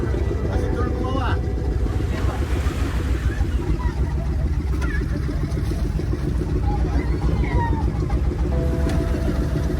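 A pompong, a small motorized wooden boat out at sea, runs with a constant loud engine rumble mixed with wind and water noise, and voices are heard faintly over it.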